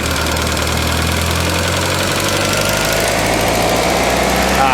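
A VW MK2 Scirocco engine runs near and steady with a lean sputter, a droning idle with uneven, rough pulsing.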